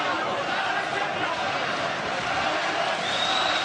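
Boxing arena crowd at the Felix Sturm versus Daniel Geale fight, a dense continuous roar reacting to scoring punches, loud and even throughout, with a commentator's voice over it.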